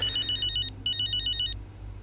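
A phone rings in the video game F1 2025, with two bursts of a bright trilling electronic ringtone separated by a short pause, loud and clear over a low hum.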